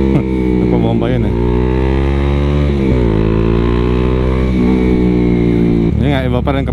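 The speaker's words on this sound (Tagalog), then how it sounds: "lagi natin naaabot yung RPM limit ng Dominar" Bajaj Dominar motorcycle engine held high near its RPM limit, a loud, steady harmonic drone with a few dips and rises as revs shift, close to the listener throughout, no talk over it.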